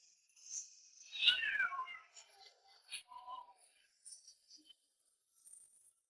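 Kittens meow in a series of thin, high calls, one louder cry early followed by several softer meows spaced over several seconds against near silence.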